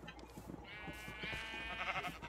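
Sheep bleat in the Minecraft video game, a run of harmonic calls from several animals overlapping across the clip over a busy mix of game sounds, with no talk.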